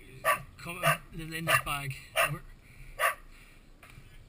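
A dog stuck on a cliff ledge at Deer Park, Howth, during an Irish Coast Guard mid-cliff rescue gives several sharp barks and yelps, fairly near and mixed with rescuers talking.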